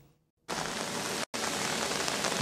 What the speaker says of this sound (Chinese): 由外之邦大雨直直落，